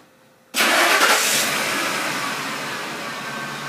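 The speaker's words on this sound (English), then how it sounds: "engine cranks" A 2003 Ford F150 engine cranks and catches via remote start, a sudden loud burst that settles into a steady idle, heard close with no talk.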